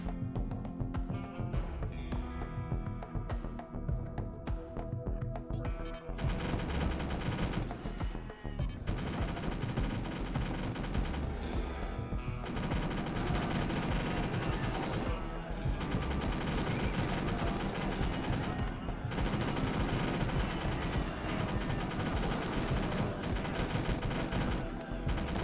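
Sustained gunfire from a colony base defense in the game RimWorld, a dense, continuous barrage of overlapping shots and bursts that stays loud for nearly the whole stretch with only brief lulls.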